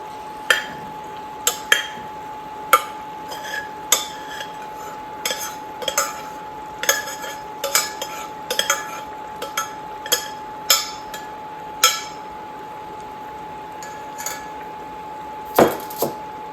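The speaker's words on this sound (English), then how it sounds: "Okay, I'm going to add in our macaroni." Elbow macaroni is stirred into a pot of chili with a metal utensil, giving sporadic clinks and taps against the pot over a quiet background, with a steady faint hum throughout.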